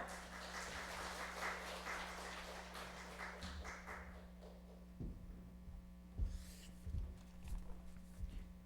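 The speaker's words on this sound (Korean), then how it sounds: "박수 쳐주세요" A church congregation claps steadily for a few seconds over a low electrical hum, then the applause dies away, leaving scattered soft thumps and taps.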